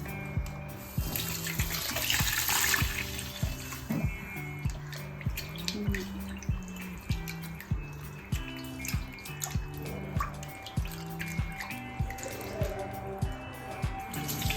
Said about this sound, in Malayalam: ഇത് അരി നല്ല വൃത്തിയായിട്ട് കഴുകി എടുക്കുക